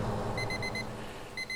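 An alarm clock rings at night in short repeated bursts of high electronic beeping, a steady pulsing pattern that pauses and resumes, moderately loud against a quiet room.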